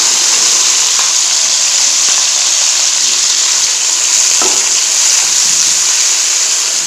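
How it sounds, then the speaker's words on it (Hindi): Three medium onions frying in hot ghee sizzle with a loud, steady hiss that stays constant throughout, with no talking over it. "इसमें प्याज ऐड करेंगे 3 मीडियम साइज में।"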